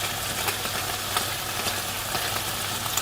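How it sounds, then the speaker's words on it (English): Chicken frying in oil, played as white noise: a steady, faint hiss of sizzling with scattered small pops and crackles, continuous and even throughout, no voices. "now they're going to play the white noise of the chicken frying, Mike."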